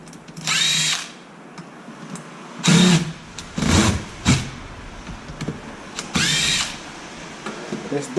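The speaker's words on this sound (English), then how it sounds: "I'm gonna have to switch up my drill also." A power drill whirs in several short bursts, close and fairly loud, while screws are backed out of a Traxxas Wide Maxx 4S RC truck, with quiet pauses between runs.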